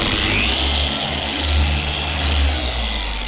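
A dual-action polisher runs at speed setting 3 with its pad spinning against car paint, a steady close whir with a low motor hum that holds constant throughout, no voices.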